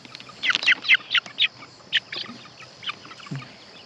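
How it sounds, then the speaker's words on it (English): Thai game hens outdoors on a free-range farm give a run of quick, high chirping calls close by, a rapid burst of several notes followed by a few scattered softer peeps. "That's that Thai game hen."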